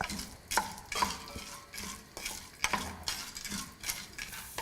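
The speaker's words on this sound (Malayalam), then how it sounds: "ഇതിലോട്ട് എടുത്തു വച്ചിരിക്കുന്ന പൊരിക്കടലയിട്ട് ലൈറ്റ് ബ്രൗൺ ആവുന്നത് വരെ മിക്സ് ചെയ്യുക" A spoon stirs cashews and roasted gram in a frying pan for sweetened flattened rice, giving repeated rhythmic scrapes and light clinks over a soft sizzle, close and fairly quiet.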